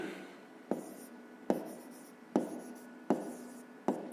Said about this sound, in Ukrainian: Записуємо тоді.